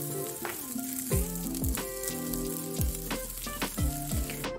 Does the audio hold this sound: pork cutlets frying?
yes